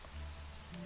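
Rain pattering steadily on surfaces in the video game Shadowrun: Hong Kong, a soft, even hiss of falling drops with no voices.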